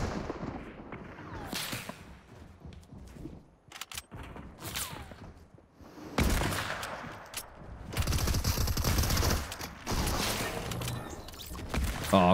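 Gunfire in the battle game Fortnite, a mix of sharp rifle cracks and rapid bursts spread across the scene, loud and close, with a player's voice talking in between.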